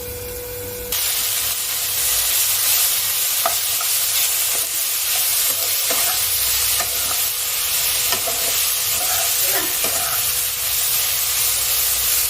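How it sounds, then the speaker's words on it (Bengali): Mixed vegetables with a little turmeric fry in a small amount of oil in a covered pan. The sizzle is loud and steady, broken by scraping stirs and a few clinks of the utensil. "ঢাকা দিয়ে আমি ভালো করে ভাজা করে নিচ্ছি সবজিগুলো"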